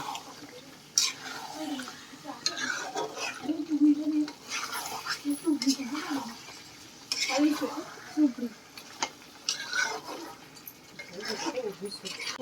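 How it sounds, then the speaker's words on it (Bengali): Chicken pieces sautéed and stirred in a pot for chicken biryani, with repeated spoon scrapes and clinks against metal under a voice speaking intermittently. "আমি এখন মাংস কষাচ্ছি"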